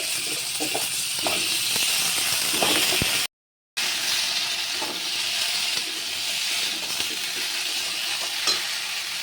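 Tomato, potato and taro pieces fry in hot oil with black cumin seeds for a rohu fish curry, a loud close sizzle and hiss with stirring scrapes, broken once by a short gap, no talking.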